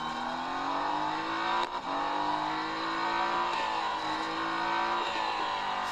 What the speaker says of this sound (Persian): صدای سوت سوپر مرسدس رو میشنوید که خیلی صدای باحالیه